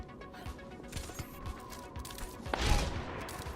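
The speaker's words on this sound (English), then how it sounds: "2 very near shots there" Widowmaker sniper shots in Overwatch during a 1v1 tournament final: a sharp, fairly quiet crack stands out midway over a soft, rhythmic bed of in-game footsteps and ambience.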